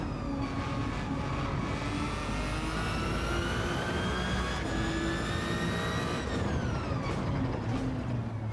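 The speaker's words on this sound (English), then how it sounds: "Just listen to that motor." A Gr.1 prototype race car in the video game Gran Turismo 7 screams at high revs with a loud, steady engine whine whose pitch climbs, then drops sharply at each gear change before rising again.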